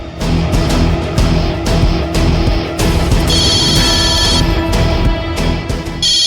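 A telephone rings in a Tamil TV serial scene, its bright electronic trill repeating in bursts over a steady background music bed, with no talking.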